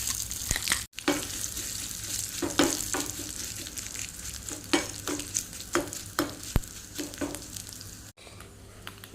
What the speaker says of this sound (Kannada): ಬೆಳ್ಳುಳ್ಳಿ ಫ್ರೈ ಆಗ್ತಾ ಬಂತು. ಕರಿಬೇವು ಹಾಕ್ತೇನೆ.